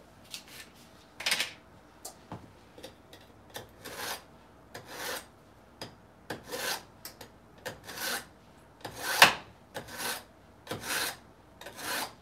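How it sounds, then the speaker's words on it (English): A kitchen knife drawn through a knife sharpener while preparing mini pineapple upside-down cakes, a dozen or so short rasping strokes in an uneven rhythm, close and fairly quiet, with no talking. "let's sharpen our knives right now"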